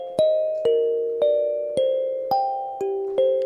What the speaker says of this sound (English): This is the simple kalimba,